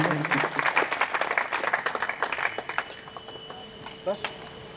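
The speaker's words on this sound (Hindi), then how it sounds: "सर तालियों से हार्दिक अभिनंदन करिए।" An audience at a college freshers' party applauds a first-year student receiving a memento, with dense clapping that thins out and fades over several seconds. A little crowd noise is mixed in.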